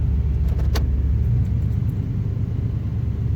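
A car engine idles after a cold start in hot weather, a steady, close, low rumble that holds even throughout, with a brief metallic jingle near the start.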